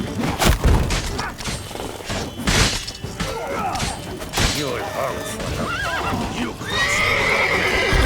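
Horses whinny and neigh repeatedly in the video game The Witcher 3 amid clopping hooves and thuds, with people talking throughout.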